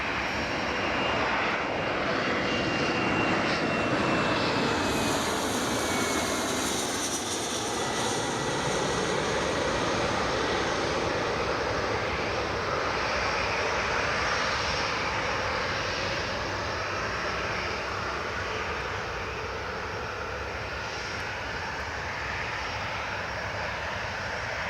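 An aircraft on runway 25 at Newcastle International Airport produces a sustained, loud engine roar that swells and gradually shifts in pitch as it passes, with no voices.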